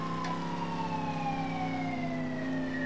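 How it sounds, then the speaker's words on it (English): A continuous police siren wails from a pursuing vehicle during a video game police chase, its tone gliding slowly downward, loud and steady throughout with no talk over it. "Did you not hear the sirens?"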